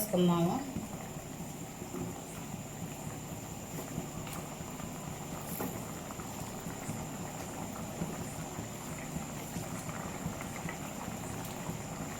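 Tamarind stew (pulusu) simmering in a pot for masala vada pulusu, a steady low bubbling and hissing wash that holds evenly throughout, with a faint constant hum over it.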